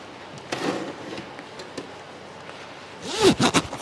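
A jacket zip is pulled up in one quick rising zip near the end, after a few faint rustles and clicks, close and fairly loud with no talking.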